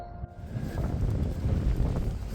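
Strong wind buffeting the microphone outdoors during a walk at Durbe hillfort, a heavy low rumbling roar that stays continuous and close.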